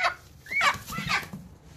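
A rooster on a farm gives a short, fairly faint crow with a rising then wavering call, close by and otherwise alone.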